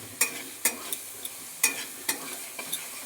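Two tomatoes go into spices frying in a pan with a steady close sizzle, broken by several sharp stirring scrapes at an uneven pace.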